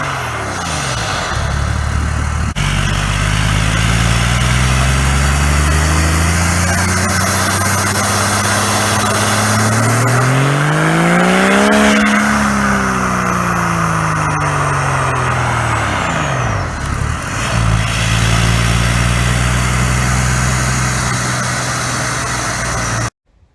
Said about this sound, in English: Right, now for the exhaust test.